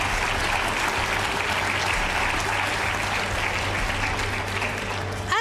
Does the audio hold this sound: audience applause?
yes